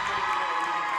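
Crowd cheering at a girls high school basketball game, Adena fans in a gym roaring loudly in a sustained, echoing burst lasting about a second.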